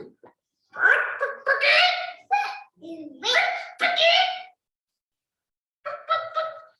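A child imitates a chicken with a series of bursty clucking, squawking vocal calls in quick clusters, pausing briefly before a final short run of calls, close and fairly loud.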